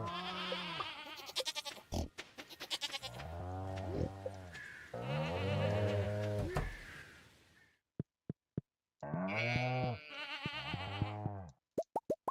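Farm animals in the Stardew Valley video game give repeated bleating calls in bursts, broken by short pauses and soft plopping clicks.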